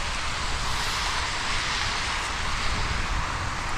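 British Airways Boeing 777-200 taxiing for departure at Toronto Pearson Airport at night, heard as a steady, broad jet engine roar mixed with gusty wind noise on the microphone.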